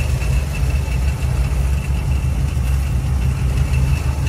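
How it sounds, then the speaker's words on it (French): The 5-litre V8 of a 1979 Chevrolet Chevy Van G10 idles steadily and loudly up close, a continuous low rumble with no talk over it. "Compartiment moteur avec notre moteur V8"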